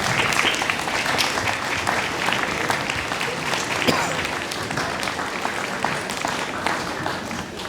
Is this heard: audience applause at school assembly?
yes